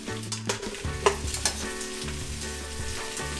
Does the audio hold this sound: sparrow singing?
no